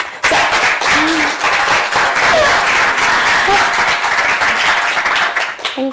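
Audience applause at a fellows' capstone presentation, a loud, steady burst of clapping from a crowded room that fades out near the end as a voice starts.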